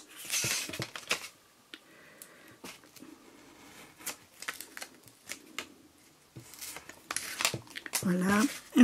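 Paper being cut for a scrapbooking post-it holder, heard as short crisp snips and rustles in scattered bursts, close and fairly quiet, with someone speaking French between the cuts.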